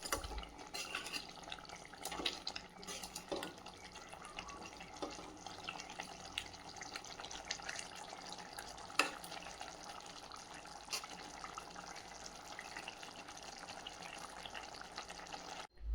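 Egg gravy curry (muttai kulambu) is stirred in a pan with quiet, intermittent scrapes and light clinks over a faint bubbling simmer, close by and soft, with no talking.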